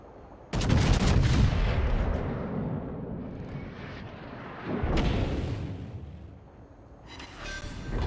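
Heavy naval gun salvos boom from a battleship, the Montana, in a warship game, a loud blast opening into long rolling rumble, then a second salvo about midway and a fainter crackle near the end.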